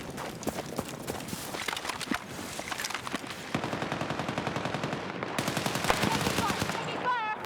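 Machine gun fire in a video game rattles in long, rapid bursts of sharp cracks, loud and close, with footsteps and other game effects mixed in around it.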